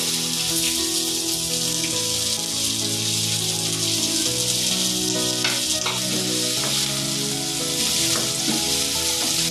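Sliced onion fries in hot oil with mustard seeds and chillies for an egg fry, a loud, steady sizzle with occasional stirring scrapes and pops, close up and without voices.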